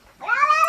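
A kitten gives one short, clear meow, rising and then holding, close and alone against a quiet background.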